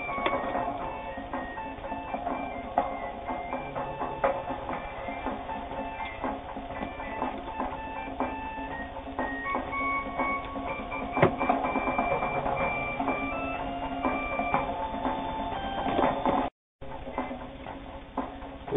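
Japanese-made precision sewing machine stitching flannel fabric, a steady fast mechanical whir and ticking rhythm, close and continuous, with a brief pause near the end.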